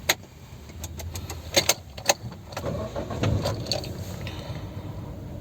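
Maruti Ertiga with an aftermarket CNG kit being started: a few sharp clicks and key-like rattles, then a low engine churn catching and settling into a quiet idle.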